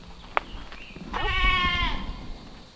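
A goat on a farm lets out one loud, wavering bleat lasting under a second, close by, after a sharp click and some quiet rustling.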